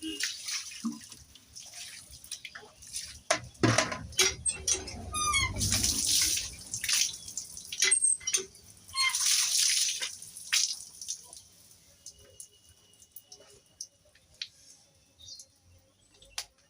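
Water running from a tap in a village kitchen, splashing and trickling in uneven bursts with a few drips, strongest mid-way then tapering off, with birds faintly in the background.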